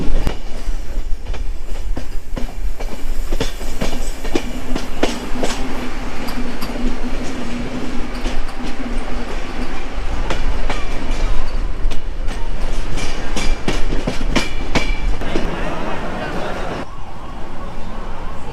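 The Coromandel Express rolls steadily toward Chennai Central, a continuous loud rumble with rhythmic wheel clatter and occasional squeal, heard up close from inside, with a voice talking over it.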